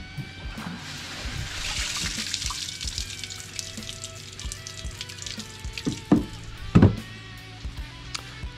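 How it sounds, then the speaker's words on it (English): Water trickles and splashes steadily as it drains from the clean out plug openings of a Yamaha jet boat, with scattered drips and a few louder knocks and splatters near the end. "I pull my clean out plugs out."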